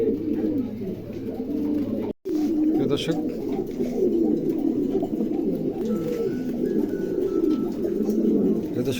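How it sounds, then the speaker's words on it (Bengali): A pair of adult fancy pigeons coo in soft, repeated throaty rolls that run steadily throughout, close by, with someone talking over them and one brief dropout partway through. "চমৎকার এক জোড়া কবুতর"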